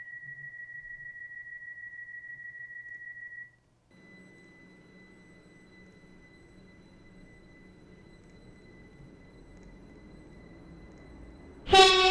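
A Roblox Stepford County Railways train runs: a steady electronic tone gives way to a low, constant rolling rumble, then a sudden loud burst breaks in at the end.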